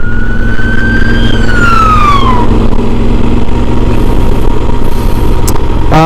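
An emergency vehicle siren passes outside, loud and wailing as it rises and then sweeps down in pitch over steady traffic rumble, ending with a short sharp blip, with no talking.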